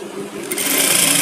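An electric sewing machine runs steadily, stitching the side seam of a handmade garment, its motor whirring continuously and growing slightly louder and brighter toward the end, with no talking.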